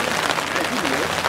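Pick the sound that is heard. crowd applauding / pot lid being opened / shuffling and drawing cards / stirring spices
crowd applauding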